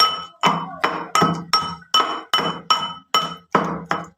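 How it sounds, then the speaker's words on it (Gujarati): Garlic chutney ingredients are pounded in about eleven sharp, ringing strikes at an even, brisk rhythm, each hit close and loud with a short clinking decay and no talk. "હવે બધાને આપણે થોડું ખાંડી લઈશું બધું ખાંડી લઈશું"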